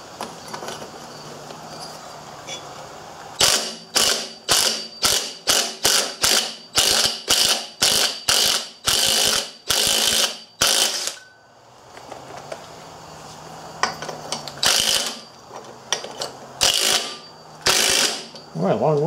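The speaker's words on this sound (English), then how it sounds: "So I think I'll get this flywheel off of here." A ratchet wrench clicks in rapid, loud bursts close by as the flywheel is worked off a Briggs & Stratton 5S engine with left-hand threads, the strokes repeating rhythmically with a brief pause before resuming.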